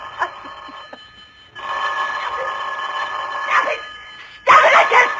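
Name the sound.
telephone ringing in a radio drama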